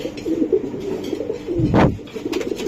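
Racing pigeons cooing close by in a loft, a low soft warble running under the sound with one louder, fuller coo swelling in the middle; no speech.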